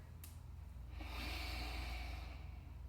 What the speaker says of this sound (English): Take a few rounds of breath here.